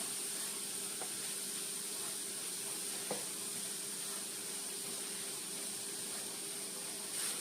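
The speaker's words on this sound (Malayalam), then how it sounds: "ക്യാരറ്റും കൊണ്ടുള്ള ലഡു ഈ നെയ്ക്കകത്തിട്ട് നല്ലോണം ഇതൊന്ന് വഴത്തിയെടുക്കണേ" Grated carrot sautés in ghee in a pan for carrot laddu, giving a steady, even sizzle and hiss with a few faint stirring knocks.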